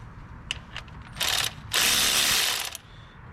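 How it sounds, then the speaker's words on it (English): A ratchet tightens the 17mm tensioner bolt on a Ford Ranger during a timing belt job: a few quick clicks, then two longer bursts of rapid ratcheting, loud and close with no talk. "Let's go ahead and reinstall our new tensioner. Starting with the 17mm bolt with the coil on it."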